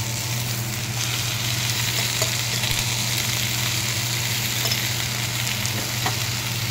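Onion, garlic and ginger-garlic paste frying together in a pan, a dense, continuous sizzle with a low steady hum underneath and faint occasional ticks, close, with no speech.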